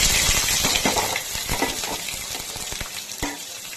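Sliced onion sizzles steadily in a hot pan for green chicken curry, a dense, close frying hiss broken by sharp clicks and scrapes of stirring, with no talking.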